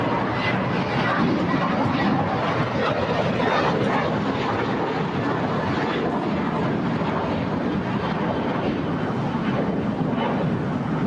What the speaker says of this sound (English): See the American 777 lining up for departure on 25 right.